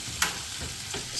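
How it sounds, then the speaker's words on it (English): Potatoes frying in a pan, a steady low sizzle with a couple of brief stirring clicks, close and fairly quiet, no voices. "So I'm gonna fry the potatoes."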